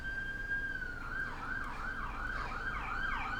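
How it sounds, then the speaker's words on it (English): An emergency siren wails in the distance, starting as a steady tone then cycling up and down repeatedly over faint road noise. "sorry if you hear the siren going"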